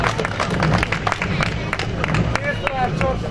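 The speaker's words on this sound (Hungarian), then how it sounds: "ezért külön egy nagy tapsot kérek nekik." A crowd at a Mecsek Rallye awards gathering claps for a Citroen C2 R2 Max rally crew, lively close applause with cheering and background chatter mixed in.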